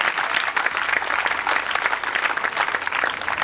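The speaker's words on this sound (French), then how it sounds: "Merci de les applaudir, ils sont parmi nous quelque part ici." An audience at a world marbles final applauds, dense sustained clapping from a crowd filling the hall at moderate loudness.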